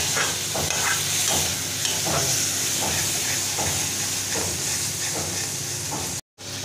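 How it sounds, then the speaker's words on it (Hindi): Spice masala fries in oil over a medium flame while a spoon stirs it briskly, so repeated scraping strokes ride over a continuous close sizzle and hiss, with no voices. "बस मीडियम फ्लेम पर हम इस मसाले को इसी तरह से भूनेंगे जब तक कि ये तेल ना छोड़ दें।"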